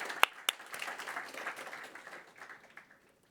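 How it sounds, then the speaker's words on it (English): Scattered hand claps from a conference keynote audience, a couple of sharp claps standing out early, then the applause thins and fades away. "So kudos and huge round of applause for that."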